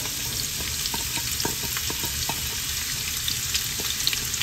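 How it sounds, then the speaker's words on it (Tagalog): Red onion and ginger sautéing together in a pan for beef caldereta, a steady bright sizzle with faint spatula taps scattered through, close and unbroken, no voices. "Pagsabayin na po natin ang sibuyas na pula at luya."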